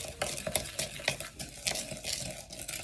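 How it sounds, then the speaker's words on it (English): Sugar and ground cinnamon are mixed in a bowl for a snickerdoodle topping, a quick run of rhythmic scraping and gritty swishing strokes, close and moderately quiet with no voices. "you're going to add 1/3 cups of sugar to a tablespoon of ground cinnamon. Mix that up."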